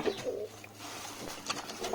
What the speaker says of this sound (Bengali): দেখতে পাচ্ছেন পায়রাগুলো পিছনে বসে আছে